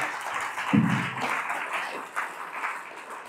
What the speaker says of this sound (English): everybody should get a clap for that